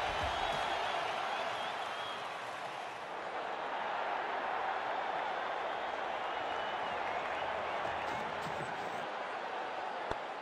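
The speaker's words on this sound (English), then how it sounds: "Crowd's gone mad!" A stadium crowd in a cricket video game roars and applauds after a big six, a steady, loud wash of cheering that holds without a break.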